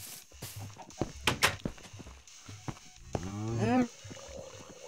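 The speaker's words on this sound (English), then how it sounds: "Okay, little cow. We need you." A small cow moos loudly and close with a rising, wavering call near the end, following scattered footsteps, rustling and thumps while a person coaxes it with spoken words.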